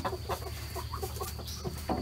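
A black hen clucks in a chicken run, a series of short soft clucks at an uneven rhythm, close by over a steady background hum.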